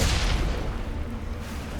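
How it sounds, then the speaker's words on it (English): Cannon fire and gunshots from the Mass Effect video game, a loud, dense burst of booming blasts that fades slightly over under two seconds, with no speech. "they are not resistant to bullets and cannon fire"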